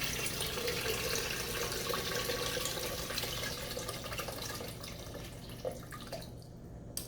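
Tap water runs steadily into a gallon pitcher, a continuous rushing hiss with a faint rising fill, close by and fairly quiet, with no talking.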